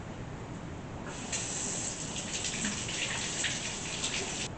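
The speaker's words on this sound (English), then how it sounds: "the first thing we need to do is wash it" An eggplant rinsed under a running kitchen tap, with steady hissing water spray that grows fuller as the produce goes under the stream and continues without pause.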